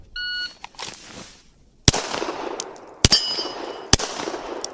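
An electronic shot timer beeper sounds during shooting practice, with a short tone at the start, followed by several sharp, loud gunshot-like bangs spaced about a second apart.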